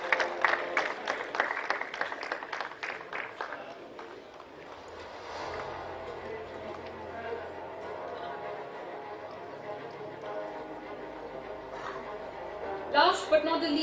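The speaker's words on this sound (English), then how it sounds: "Let's welcome them with a huge round of applause," Audience applause at the IndiaSoft 2025 and India Electronics Expo award ceremony, a burst of clapping in the first few seconds that thins into a steady hall murmur with some sustained music or hum, then flares again near the end.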